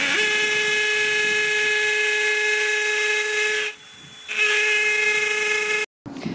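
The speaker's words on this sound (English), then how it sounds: "Alright, Ian's going to drill." A power drill runs as Ian drills into a wall at home: a loud, steady, high whine that dips briefly partway through, then resumes before cutting off near the end.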